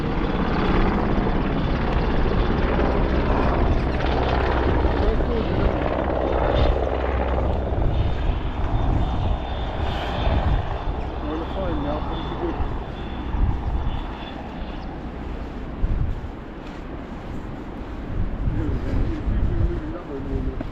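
A low-flying Merlin helicopter passes overhead on a coastal walk at Perran Sands toward Holywell, its loud rotor and engine roar steady throughout, with people talking under the noise.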